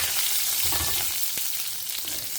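Spices tempering in hot ghee with ginger and green chili, a steady bright sputtering sizzle with a sharper pop near the middle, close and continuous with no one talking.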